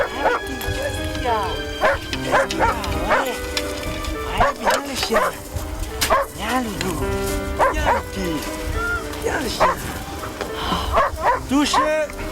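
Vicky, a light, agile rescue dog, barks and yips in repeated bursts with some whimpering, close and loud, while people talk around her.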